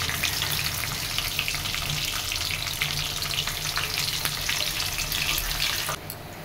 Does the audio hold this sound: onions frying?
yes